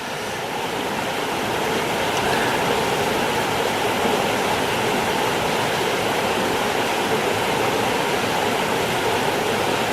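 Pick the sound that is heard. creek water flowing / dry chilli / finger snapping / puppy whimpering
creek water flowing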